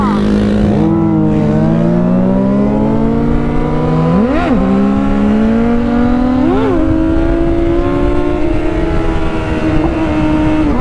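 Car engine revving hard through a drift, a loud continuous drone whose pitch wavers and spikes in sharp bursts around the middle, with faint voices beneath.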